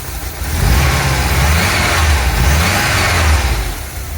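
A van engine fitted with new aftermarket injectors runs close by with a steady low-pitched drone that swells slightly in the first half-second, then holds an even, loud idle-like hum.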